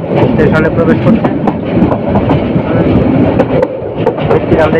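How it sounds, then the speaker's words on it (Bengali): Chottola Express train pulling onto platform 1 at Mrittikanda station, close, loud rumbling with repeated clickety-clack wheel beats, while someone speaks over it. "মৃত্তিকান্দা স্টেশনের 1 নম্বর প্ল্যাটফর্মে প্রবেশ করেছে ট্রেন।"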